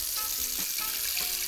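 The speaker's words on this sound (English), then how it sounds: "So I'm just gonna put a little bit of water." Water added to a thick, simmering homemade bolognese sauce in a pot brings a soft hiss and sizzle with faint bubbling, quiet and close, steady for a moment.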